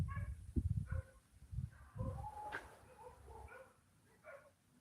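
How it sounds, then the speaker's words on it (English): Dogs bark in a residential neighborhood several houses away, a faint, scattered series of barks and yips with short pauses between them, heard alone against quiet outdoor background. "All you're gonna hear is some dogs."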